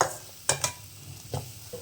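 A ragi flour mixture is stirred in a pan on the stove, a few soft scraping strokes of a spoon over a faint, quiet background.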